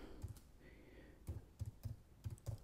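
Keystrokes on a computer keyboard while a post title is entered in a CMS, heard as a quick run of close, crisp clicks in uneven bursts of two or three with short pauses between.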